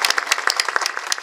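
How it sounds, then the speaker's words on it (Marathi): Audience at a Marathi devotional kirtan sermon clapping briskly, a dense, lively patter of many hands sustained through a short burst, close and fairly loud with no talk over it. "येतं सगळ्यांनी टाळ्या वाजवा या उपक्रमासाठी."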